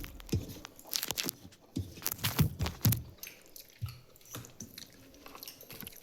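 Close, soft chewing of steaming hot rice with fried banana fritters, irregular moist smacks and squishy bites repeating in uneven bursts, faint and intimate, with no talk.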